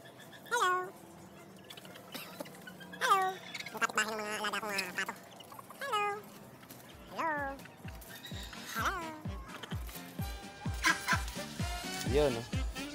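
A pet duck brooding its eggs gives raspy, gargling calls in short bursts, then later a rapid series of soft low thumps runs beneath further squawky calls, heard close by.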